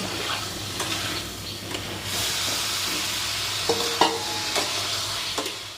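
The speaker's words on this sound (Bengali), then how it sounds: "এবারে এটাকে প্রায় দশ থেকে পনেরো মিনিট মশলার সাথে আলুগুলোকে ভালোভাবে ভেজে কষিয়ে নেব" Fried potatoes cooking in masala sizzle and hiss steadily in the pan, with repeated scraping and clinking as they are stirred, close and continuous, no talk.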